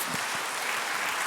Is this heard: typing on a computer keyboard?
no